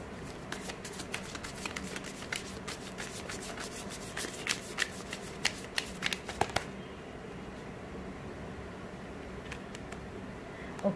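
Tarot cards are shuffled and drawn for a reading, a quiet run of papery riffles and flicks close by that thins out partway through, leaving soft rustles and a few later taps.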